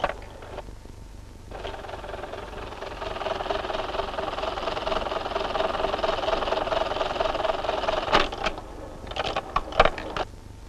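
A buttonhole-stitching sewing machine runs fast like a machine gun, a steady mechanical clatter that builds and holds, then ends in sharp clicks and knocks near the end. No voices are heard.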